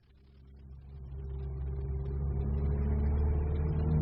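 A car engine in a radio drama idles with a low rumble that swells steadily louder over a few seconds, heard alone with no voices.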